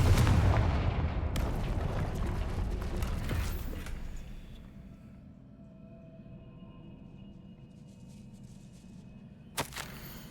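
Confringo blasting spell in Hogwarts Legacy: a loud, rumbling explosion bursts at once and trails off into a long, fading tail with faint creaks, then a small crack near the end.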